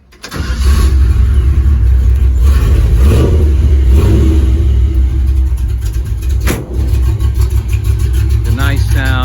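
A cammed 350 V8 in a 1953 Chevy 3100 short-bed hot rod with S10 swap starts up and revs loudly, a lumpy rumbling idle swelling through several throttle blips, with a voice briefly heard.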